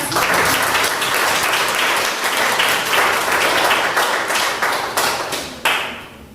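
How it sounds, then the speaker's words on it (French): Loud, sustained applause from a concert audience at a sacred music concert: close, dense clapping with sharp individual claps, tapering off toward the end. "Applaudissez-les encore une fois"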